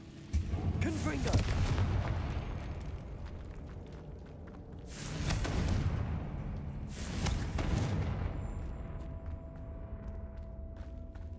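Confringo blasting spells explode in Hogwarts Legacy, three heavy booming blasts with long rumbling tails, spaced a few seconds apart over continuous game ambience.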